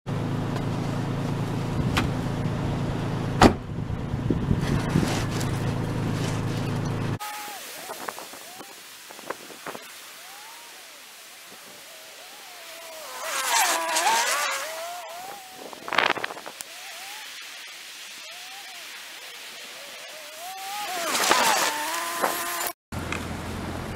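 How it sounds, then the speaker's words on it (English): A small four-wheel drive vehicle plowing snow off a driveway on a Canadian winter day, its engine rising and falling in repeated passes, moderately near, with wind noise and some talk early on. "That, my friends, is called plowing your own damn driveway."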